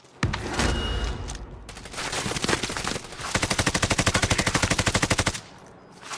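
Heavy gunfire in Modern Warfare: Warzone, with irregular shots and blasts giving way to a long, rapid, evenly spaced machine-gun burst that stops abruptly, leaving near silence before another shot.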